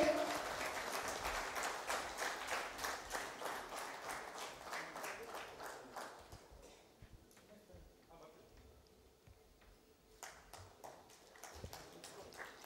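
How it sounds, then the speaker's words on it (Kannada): Audience applause at a book launch for a guide to the Bharatiya Sakshya Adhiniyam, 2023: dense, steady clapping from a crowd for about six seconds, then thinning to scattered claps before a brief second burst near the end. "ಚಪ್ಪಾಳೆ ಮುಖಾಂತರ ಎಲ್ಲರೂ ಕೂಡ ಇದಕ್ಕೊಂದು ಪ್ರೋತ್ಸಾಹ ಕೊಡಬೇಕು"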